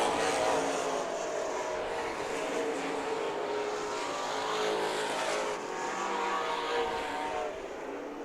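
Super stock race cars roar around the dirt oval at Perris Auto Speedway, their engines swelling and fading as the pack passes in a continuous, loud, rumbling wash of sound.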